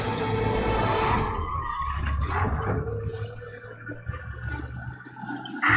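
A car in the Mafia remake video game drives fast while escaping police, its engine roaring close with tires skidding and squealing, the noise rising and falling before a sudden burst at the end.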